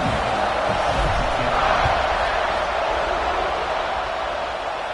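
A large stadium crowd in a college football video game roars continuously, a broad steady wash of cheering and noise with no clear pauses.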